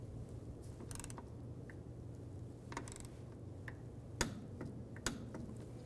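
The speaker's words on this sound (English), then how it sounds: "I'm going to take a torque wrench and torque these 2 lower bolts" Torque wrench tightening the two lower front shock bolts to 20 foot-pounds on a 1964-67 Pontiac GTO, with a few soft ratcheting ticks and two sharper clicks near the end over a steady low hum.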